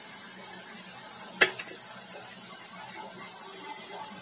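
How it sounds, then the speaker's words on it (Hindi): Ground spices frying with minced meat filling in a pan over low heat, a steady soft sizzle with one sharp clack of a utensil against the pan. "अब इसे हम अच्छी तरह से भून लेंगे।"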